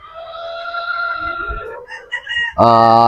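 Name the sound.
Sweater Boston pullet chickens clucking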